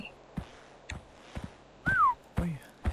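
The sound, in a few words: whistling in Unforgiving - A Northern Hymn video game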